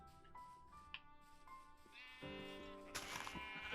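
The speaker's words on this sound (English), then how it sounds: "Sheep sounds." Sheep bleating in a survival video game, several wavering bleats building into a loud, sustained chorus near the end over background game sounds.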